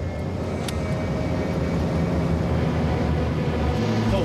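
Twin-engine British European Airways airliner at full power on its takeoff roll, a steady dense low roar that stays loud and even throughout with no voices.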